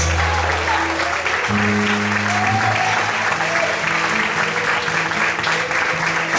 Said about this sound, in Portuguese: Quantos podem aplaudir?